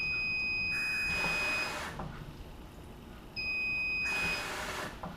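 A steady electronic tone from an automatic dog water bowl's solenoid switching on to add water, heard twice alongside bursts of rushing water, with a quieter pause between.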